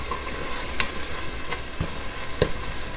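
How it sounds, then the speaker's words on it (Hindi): Ginger garlic paste frying in a pan, a steady close sizzle broken by occasional sharp clicks and scrapes of a spoon, with no voices. "जिंजर गार्लिक पेस्ट जो है वो भी अच्छे से भुन चुका है"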